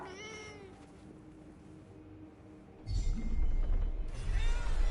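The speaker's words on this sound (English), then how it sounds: "A cat." A cat meows in the video game Forspoken, sounding several short, high calls that rise into louder, rougher mewing toward the end, heard over a steady ambient game background.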